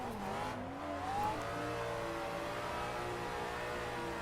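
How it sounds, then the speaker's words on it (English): A drifting car, thrown hard into a slide without using the handbrake, holds a steady loud engine drone with rising revs and a long tire squeal throughout, heard alone without talk. "Basically just have to throw the car extra hard, and then that'll ensure you're at enough angle and you don't straighten out."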